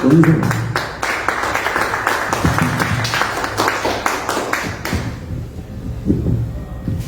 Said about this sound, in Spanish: un aplauso para Nancy Arellano